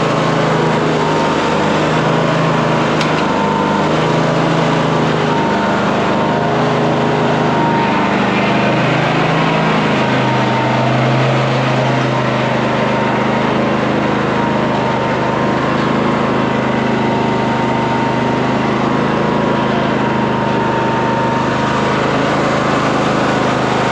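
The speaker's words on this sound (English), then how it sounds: "I'm going to show you what it's like to actually drive this mower around" A Cub Cadet Ultima ZTS1 46 zero-turn mower drives around with its engine droning loud and steady throughout, the pitch shifting slightly as it maneuvers, with no speech.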